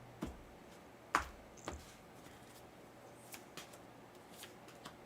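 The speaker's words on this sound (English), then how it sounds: "I love the sound of card shuffling." Tarot cards shuffled by hand, a few soft riffles and taps with brief sharper snaps, faint and close against a quiet room hiss, no voices.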